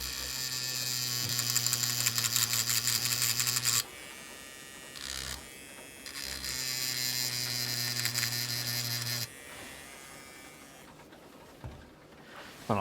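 A rotary tool grinds solder mask off a circuit board trace during an amplifier restoration, a loud, steady high-pitched whine with strong hum that runs in two long bursts, broken by short quieter pauses.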